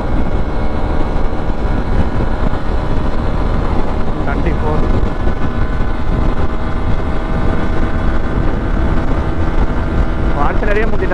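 A Hero XPulse 200 motorcycle riding flat out at top speed, around 130 km/h, giving a steady loud engine drone buried under heavy wind rush for the whole stretch.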